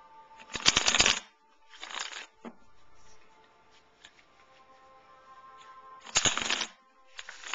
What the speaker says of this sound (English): So I'm going to go ahead and shuffle really quick.